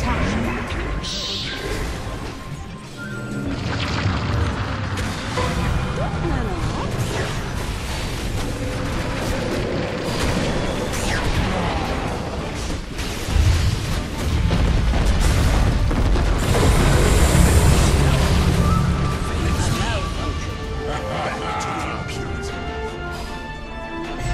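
A Dota 2 match plays out while a tower comes under attack, with dense, continuous booms, crashes and pops from game effects throughout. Voices talk over the din.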